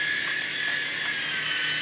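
A small toy helicopter flying indoors gives a steady, close, high-pitched whining buzz from its tiny rotor and motor, loud and unbroken throughout with no talk.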